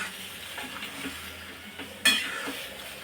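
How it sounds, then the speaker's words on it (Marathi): Masala pasta is stirred in a pan, soft scraping and a gentle sizzle underneath, with one sharper clink of utensil against the pan partway through; close and fairly quiet, no talking. "चांगला असं एकजीव करून घ्यायचा आहे हा पास्ता मसाला"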